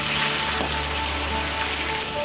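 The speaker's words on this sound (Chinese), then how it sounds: "要把各种辅料炸干" Assorted aromatics slowly deep-frying over medium-low heat in hot oil to make a flavored oil, a steady, even bubbling sizzle close by, with no speech.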